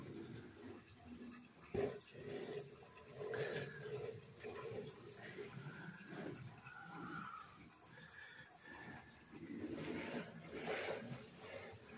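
Water from a small waterfall in a frog cage trickles and splashes softly and continuously in the background, faint and steady in an indoor room.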